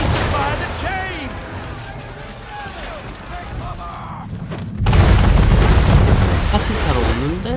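Ship cannons booming during a naval battle in Assassin's Creed III Remastered, heavy low rumbling blasts and a louder surge of cannon fire midway, mixed with game sounds and shouted voices.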